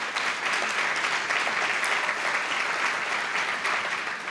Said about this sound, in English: So a warm round of applause for that.